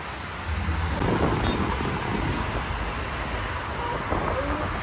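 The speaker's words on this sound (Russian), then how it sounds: "Такой ветер." Wind buffets the microphone in a low, continuous roar outdoors in Dubai, with faint traffic-like rumble underneath.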